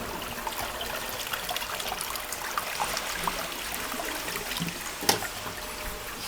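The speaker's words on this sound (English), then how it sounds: "At this point I can make this connection, lever back to the wall, quick flush." A TOTO toilet from Japan, freshly fitted, gives a quick flush: a steady, moderately close rush and trickle of water with a brief knock partway through.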